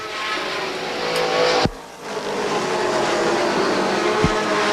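Race car at Beech Ridge Motor Speedway in 1988 charging down the back straightaway, a sustained loud engine roar that steadies and drops briefly mid-clip before building again, with no talk.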